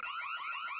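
A wavering electronic alarm tone warbles up and down in a steady repeating pattern, fairly clear and alone for just under a second.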